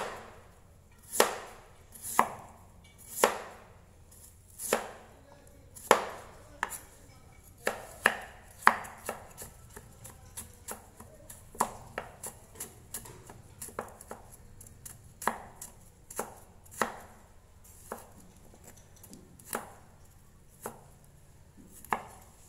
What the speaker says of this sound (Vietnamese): mình sẽ cho vào đây nghệ, các bạn thái ra hoặc các bạn có thể là giã nhỏ nhé